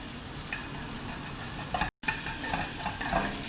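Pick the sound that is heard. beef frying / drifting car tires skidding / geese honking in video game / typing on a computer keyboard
beef frying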